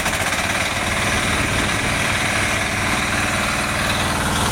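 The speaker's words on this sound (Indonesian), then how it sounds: "ini adalah mesin baru kultivator RTH" A new RTH 10 HP diesel cultivator engine idles loudly and steadily up close, a continuous low chugging rumble with constant vibration and no pauses.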